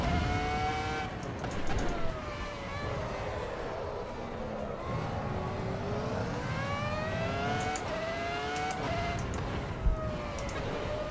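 A race car engine in Assetto Corsa EVO climbs and drops through the rev range, several rising pitch sweeps with shifts between them, loud and continuous, with a voice talking faintly underneath.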